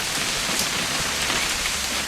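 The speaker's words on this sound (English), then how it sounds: "It's gonna rain the whole weekend," Steady, dense rainfall in the video game What Remains of Edith Finch hisses evenly throughout, a close, continuous wash of drops with no voices.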